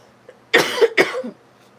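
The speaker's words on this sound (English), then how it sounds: "I can't get rid of this cough." Two sharp, close coughs in quick succession, loud and raspy, with quiet before and after.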